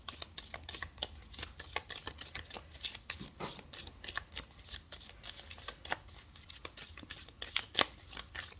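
Tarot cards are shuffled and drawn, a continuous fast riffle of papery flicks and soft slaps with sharper card snaps scattered throughout, close and fairly quiet with no talking.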